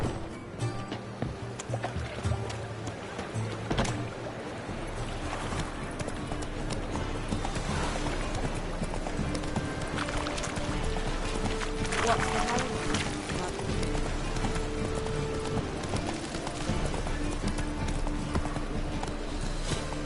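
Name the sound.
horse galloping hooves in The Witcher III video game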